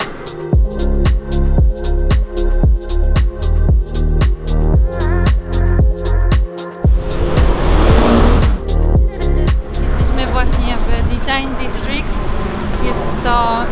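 Luxury cars drive along a Miami street, with a broad engine and tyre roar swelling past midway through, set against steady rhythmic music.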